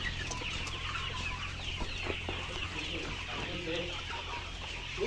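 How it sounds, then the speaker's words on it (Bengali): Layer hens clucking in a large poultry farm shed holding about 3000 birds, a dense continuous chorus of overlapping clucks and calls at steady volume, with no talk. "আমাদের নতুন এই ব্যাচের মুরগিগুলা আজকে বিক্রি হচ্ছে।"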